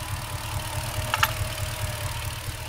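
A Ford BA Falcon XR8 5.4 litre V8 idles with a cylinder misfire caused by an injector driver failure, giving a steady low rumble with an uneven, stumbling pulse and a brief rattle midway.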